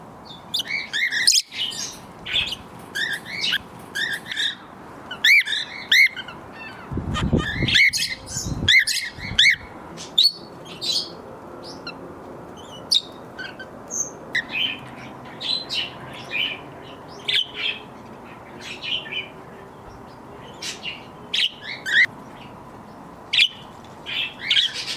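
Bourke's parakeets in an outdoor aviary chirp and tweet in quick, scattered bursts, some near and bright, others fainter, with a brief flutter or thump partway through and quiet gaps between calls.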